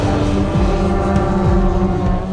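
A steady propeller drone from a small airplane's two petrol-powered piston engines, with a low buzzing hum and shifting pitch, loud and continuous throughout.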